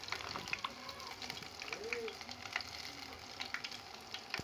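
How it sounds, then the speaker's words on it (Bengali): Flattened onion-leaf pakoras sizzle in hot oil, a faint, continuous crackling hiss with scattered tiny pops and spatters, close to the pan. "পকোড়াগুলো এইভাবে আমি তেলের মধ্যে দিয়েছি"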